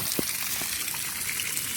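Water running from a household tap after a leaking water meter on the home pipe line was repaired, a steady soft gushing flow heard alone with one brief knock near the start.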